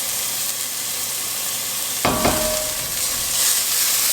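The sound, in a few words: garlic frying in a pan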